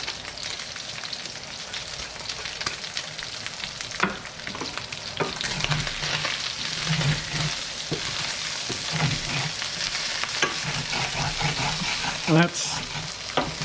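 Aromatics sizzle in a hot pan for orange chicken, with steady frying crackle and repeated scraping stirs throughout, close and fairly loud.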